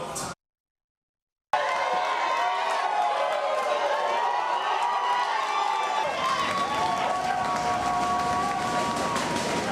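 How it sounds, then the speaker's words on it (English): Sports arena crowd erupting in loud, sustained cheering and roaring as the game clock hits zero, after a brief silent gap at the start, with a horn-like tonal layer over the din. "Everything built towards the clock hitting zeros, and the crowd going crazy"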